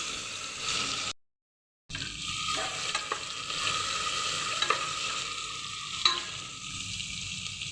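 Cumin, asafoetida and ginger-chili-garlic paste, with a dry red chili, frying in oil for a bottle gourd and chana dal curry give a steady close sizzle with stirring scrapes, broken by a short cut to silence.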